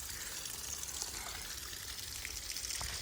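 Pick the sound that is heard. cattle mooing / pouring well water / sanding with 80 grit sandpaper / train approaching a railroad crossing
pouring well water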